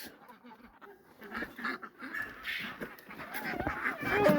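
Ducks quack in the snow in a series of nasal calls that grow louder and busier toward the end. Goose-like honks mix in, and chickens may be nearby.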